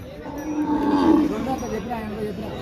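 Cows low at the Saturday cattle market in Pebbair, a deep drawn-out moo swelling near the middle and then fading, with market chatter and voices murmuring underneath.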